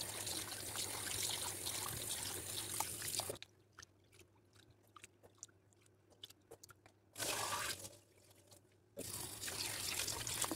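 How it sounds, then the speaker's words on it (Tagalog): Rice being washed under a running kitchen tap: a steady close rush of water that drops out to soft grain crunches and drips, then returns in bursts, with no voices. "Mga 6 times natin hugasan, pati tubig para mas mabango yung kanin."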